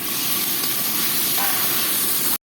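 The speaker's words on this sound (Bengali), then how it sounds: "এবার একটু দিয়ে দেবো জল মশলা ধোয়া জলটা" A burst of water, the rinse from the spice container, hits hot frying masala of tomatoes in a pan for coal-cooked chicken curry, making a loud continuous steam hiss that stops abruptly after about two seconds.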